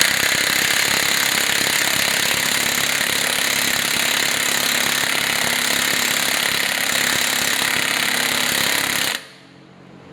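Impact wrench hammering steadily on a lug nut to draw a new wheel stud through the hub, a loud continuous rattling burst that cuts off abruptly near the end.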